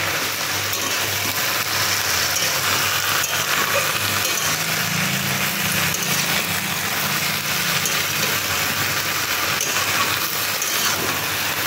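Taro and greens cooking in a pan while being stirred, producing a loud continuous sizzle with occasional scraping and clinking from the stirring and no voices.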